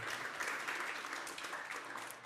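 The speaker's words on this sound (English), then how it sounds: "And applause for Thorold." An audience applauds at a regional state-of-the-region address, a brief, fairly faint and distant wash of clapping that holds steady for a couple of seconds.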